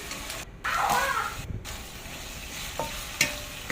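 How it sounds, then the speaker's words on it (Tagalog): Eggplant sizzles and fries in a pan as it is stirred with light soy sauce, a close continuous crackle with scraping strokes and occasional clinks from the utensil. "Ihalo natin para ma-absorb ang lasa."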